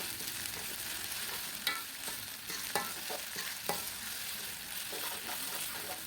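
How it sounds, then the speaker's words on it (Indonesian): Eggplant balado sautéing with galangal and bay leaves in a pan: a constant loud sizzle with a few sharp scrapes and taps of the spatula, no voices. "Nah, ini tinggal ditumis aja ya semuanya sampai matang."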